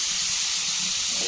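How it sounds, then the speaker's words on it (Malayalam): Onions with salt sautéing in a pan, a steady close hiss and sizzle that stays even and continuous with no voice over it. "അതും കൂടി ചേർത്ത് നന്നായി വഴറ്റി കൊടുക്കാം."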